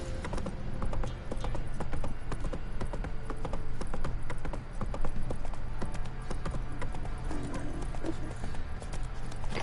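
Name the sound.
horse hooves clip-clop in The Witcher 3 video game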